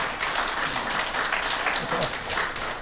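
Congregation applauding during a church fifth-anniversary celebration service, a steady broadband patter of many hands filling the room, with faint voices mixed underneath.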